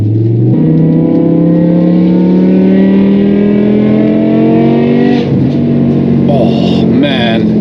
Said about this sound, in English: You're just chasing the crackles, I think it's when the exhaust gets nice and hot